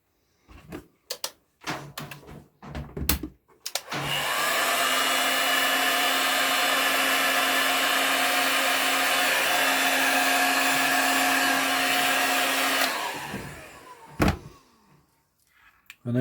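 A heat gun blows hot air onto heat shrink tubing slid over freshly soldered speaker wires, a loud steady whirring roar lasting about nine seconds, framed by brief handling clicks and knocks before and after.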